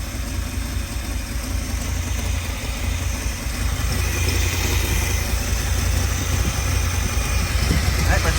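A 1959 Lincoln engine idling on its own just after a fuel pump replacement, a steady close rumbling drone with a slight rise in level partway through and no other sounds.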